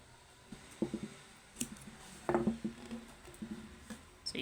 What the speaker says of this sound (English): So you cut your yarn